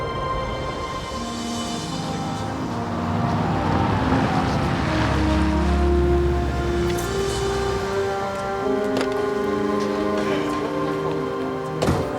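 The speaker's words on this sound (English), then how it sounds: "Attention passengers, we'll be landing in Denver in 10 minutes." Steady cabin drone of a passenger airliner in flight on approach to Denver, a continuous low rumble with engine hum that swells slightly midway, heard from inside without speech.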